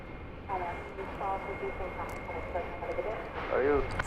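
An Airbus A350-900 airliner at DFW Airport gives a faint distant engine rumble, with someone talking over it nearly the whole time.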